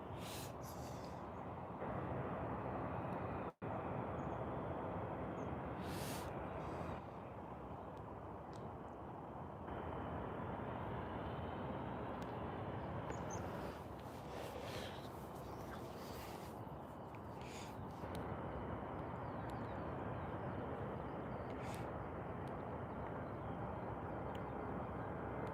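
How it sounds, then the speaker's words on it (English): A small jet takes off at Birmingham Airport, a loud, steady broadband roar heard from outside that holds at a constant level, with brief shifts and a single sharp click. "Got a little jet just taking off."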